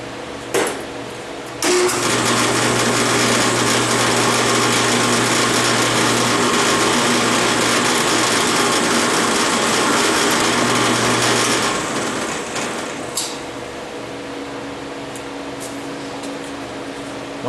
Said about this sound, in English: So we're going to go ahead and drill.